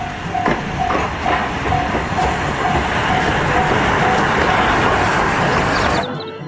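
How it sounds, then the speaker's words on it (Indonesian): A Thomas toy train rumbles and hisses loudly like a steam locomotive, with a steady mechanical drone and faint whistle-like tones, cutting off abruptly near the end. "di sini ada kereta Thomas"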